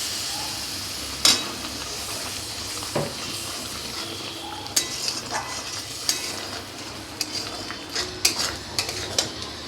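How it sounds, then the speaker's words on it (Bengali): Spice masala being fried and stirred with a little water for a vegetarian brinjal dish, a steady soft sizzle with spoon scrapes and clinks against the pan at irregular intervals. "একটু জল দিয়ে কষে নিব মশলাটাকে।"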